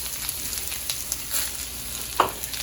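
Green bell peppers sizzle softly in a pan for a vegetable curry, a faint steady crackle with scattered small pops.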